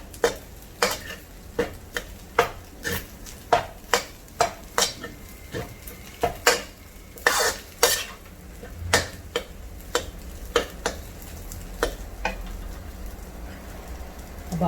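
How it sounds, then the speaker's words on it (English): Egg fried rice with prawns stirred in a hot pan: a low sizzle under a steady series of sharp metallic scrapes and taps of a utensil against the pan, close and rhythmic, with no talking. "Give it a good stir."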